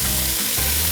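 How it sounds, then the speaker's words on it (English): Andouille sausage and onions saute in a pot with a loud, dense sizzle close up, briefly dipping in the low end as if stirred, then resuming steadily. "you want to give this about a good 5 minutes of sautéing in your pot"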